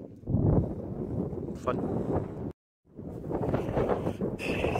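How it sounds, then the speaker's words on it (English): Strong wind gusting across a hillside on Beinn Narnain, with sustained loud buffeting of the microphone, a short lull midway, then renewed roaring gusts. A voice speaks briefly. "Probably start with the sense, and it's awful windy."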